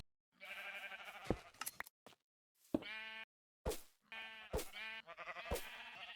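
Several sheep in the Minecraft video game bleat in short, separate calls with brief silent gaps between them, close and fairly loud, with a couple of overlapping bleats near the end.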